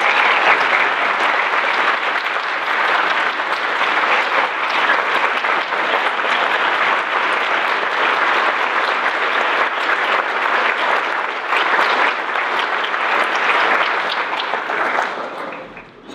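Sustained audience applause at an academic talk on imprisonment and access to justice, a steady, even roar of many hands that holds for the whole stretch before fading out at the close.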